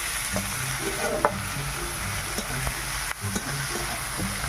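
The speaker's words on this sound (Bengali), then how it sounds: "ওকে এখন তেল গরম হয়ে গেছে, দাও পেঁয়াজ দাও, পেঁয়াজ দাও।" Onions sizzle and fry in hot oil in a home kitchen pan, a steady crackling hiss with occasional stirring clatter, heard close and continuous without talk.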